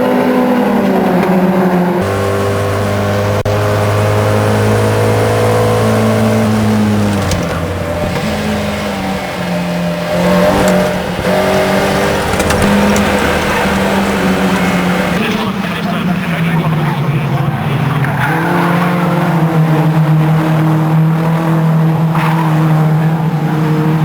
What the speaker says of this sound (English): The cars launched themselves over the curve.